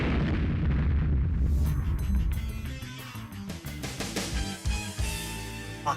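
A heavy explosive blast and rumbling crash as an F-14 fighter jet is destroyed in the Ace Combat video game, a loud continuous roar breaking into several deep booms and crackling impacts.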